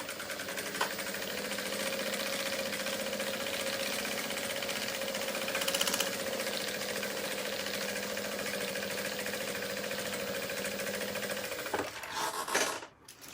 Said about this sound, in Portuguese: eu já vou passar uma costurinha aqui desse lado, prendendo esse canal aqui